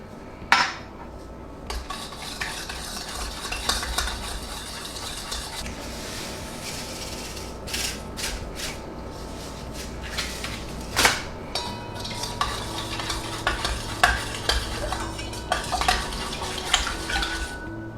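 Spoon stirring sugar and yeast into water in a bowl for bagel dough, continuous clinking and scraping of metal against the dish with occasional louder knocks, close up and without speech.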